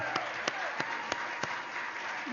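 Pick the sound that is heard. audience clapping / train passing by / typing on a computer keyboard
audience clapping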